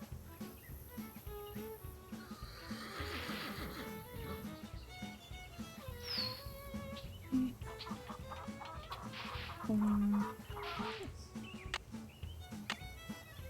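Clucks from a crazy chicken in a video game come in short bursts over steady game music and ambient noise, moderately loud and close.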